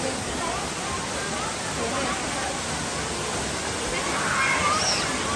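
Mok Fa waterfall in Mae Taeng, Chiang Mai, pours as a steady, loud broadband roar of falling water that fills the whole stretch without a break.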